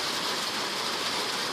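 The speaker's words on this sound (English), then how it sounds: "I got a tin roof and it's starting to rain." Rain falls steadily on a tin roof, a dense, even hiss with no gaps, fairly loud and close, with no voices over it.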